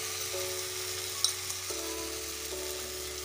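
Spices and tomatoes sizzle in a hot pan for market-style chole aloo chaat, a steady hiss of frying with a faint clink partway through and no talking.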